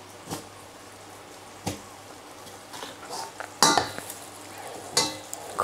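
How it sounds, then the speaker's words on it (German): A spoon stirs lemon pasta sauce, made with a little salt and cashews, in a pan, giving a few scattered scraping and clinking strokes against the pan over a faint low hum, fairly close and quiet. "Kurz nochmal umrühren."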